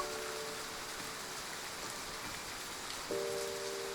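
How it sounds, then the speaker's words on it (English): Heavy rain pours down steadily in the Love and DeepSpace game, a dense even hiss that stays alone with no voices, and a low steady tone swells slightly louder near the end. "The heavy downpour descends, carrying with it a majestic force that seeks to wash away all remnants of the past"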